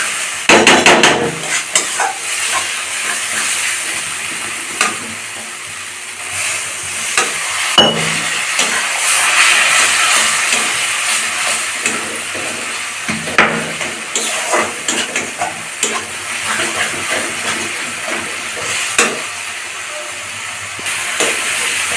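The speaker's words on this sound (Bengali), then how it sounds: "মশলাটা একটু ভালো করে কষাতে হবে।" Spice masala with chicken skin frying in a pan, loud hissing sizzle with repeated sharp scrapes and knocks of a spoon against the metal, close up and steady throughout.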